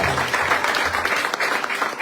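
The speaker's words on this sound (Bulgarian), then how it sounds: "Нека дадем силно ръкопляскане." Dense, steady applause fills a church after a worship song, a congregation clapping together at an even level throughout.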